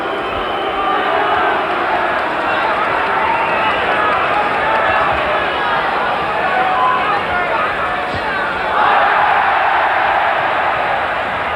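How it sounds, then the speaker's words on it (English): A 1972 boxing arena crowd reacts to the champion Bob Foster taunting Chris Finnigan, with a dense, sustained roar and jeering that swells toward the end and a commentator talking over it. "And that's what the crowd think of it."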